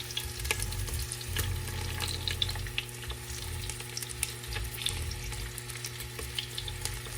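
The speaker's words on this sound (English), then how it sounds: "I'm just frying the shallots and the ginger up quickly." Quiet, steady sizzling of shallots and ginger frying in a pot, with light crackles and occasional stirring clinks, no voices.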